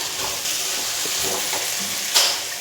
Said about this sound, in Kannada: ಟೊಮೊಟೊನ ಚೆನ್ನಾಗಿ ಸಾಫ್ಟ್ ಆಗೋ ತನಕ ಫ್ರೈ ಮಾಡ್ಕೋಬೇಕು ಮೀಡಿಯಮ್ ಫ್ಲೇಮಲ್ಲೇ ಇರಬೇಕು